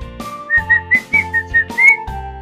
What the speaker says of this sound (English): My special talent is whistling.